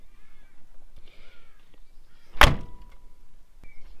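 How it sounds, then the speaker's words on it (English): A single solid slam of a door shutting on a 1971 VW T1 van, loud and close, standing alone against a quiet background. "Doors shut lovely."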